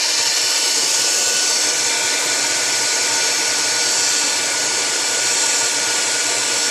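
Heating tool blowing hot air onto a Samsung Galaxy S3 to loosen shattered glass, a steady, loud broadband whoosh that holds constant throughout with no talking.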